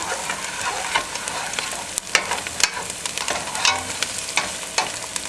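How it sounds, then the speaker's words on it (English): A generous amount of garlic mixed into a hot pan: loud continuous frying sizzle with repeated scraping and clacking of a utensil against the pan, close up, no voices. "We're adding the garlic, quite a lot. Mix it in."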